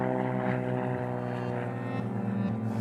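A propeller mail plane drones at a remote outback airfield, its steady tonal engine hum continuous and moderately distant with no talk.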